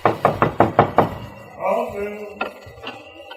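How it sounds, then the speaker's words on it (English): Five sharp, evenly spaced knocks on the door of Santa Claus's workshop in an old Christmas radio story. The knocks are close and loud, followed by a brief voice-like sound. "Well, guess I'll knock at the door."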